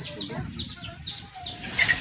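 A chicken clucks nearby in a quick series of short, repeated calls, about four or five in two seconds, with faint background noise.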